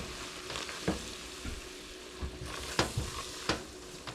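Garlic sizzles in a flour roux for a Cajun baked potato soup, a steady close frying hiss broken by a few soft knocks of stirring, with no one speaking.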